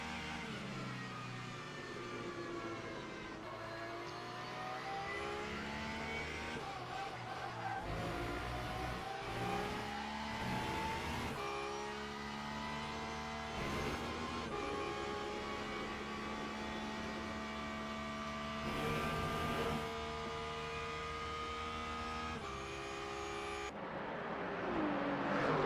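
Onboard engine of a Porsche race car in Le Mans Ultimate at Portimao, revving hard through rising gear pulls with sharp upshifts and downshifts, loud and continuous.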